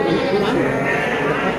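Sheep bleat at the Tanjungsari livestock market amid a loud, dense crowd hubbub of people talking and animal calls.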